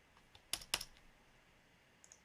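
Computer keyboard typing with a couple of sharp, close key presses as Shift and Enter are hit, followed by a quiet pause and two faint clicks near the end.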